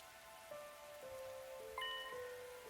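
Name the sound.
rain falling, from a video game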